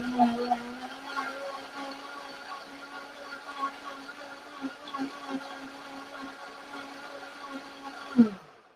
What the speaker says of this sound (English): I'm going to turn my blender on and I'm just going to blend it until it's nice and smooth